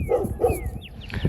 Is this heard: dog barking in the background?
yes